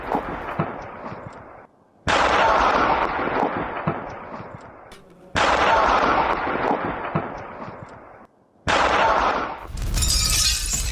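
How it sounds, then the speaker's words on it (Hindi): Blasts from an explosion at a Moscow railway station that targeted an army supply train: three or four loud, booming bursts, each cut off sharply and followed by a long fading rumble, with a crackling burst at the end. "रूस की राजधानी मॉस्को में रेलवे स्टेशन पर धमाका"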